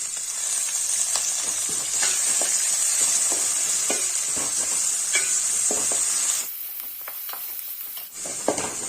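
Onions and chopped tomatoes sizzle steadily in a hot pan for snake gourd sambar, with repeated stirring scrapes of a spoon against the pan, loud and close throughout with no talking.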